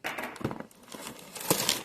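Cardboard box packaging pulled down and off a MIG flux core welder, a short burst of close crinkling, scraping and tearing rustle.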